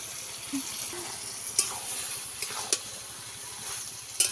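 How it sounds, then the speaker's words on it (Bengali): A Bengali winter curry of five vegetables and fish simmers and sizzles steadily in the pan while a spoon stirs it, with soft scraping clinks now and then. The sound is close and fairly quiet, and no one speaks. "ঝোলটা ভালো করে মেরে নেব"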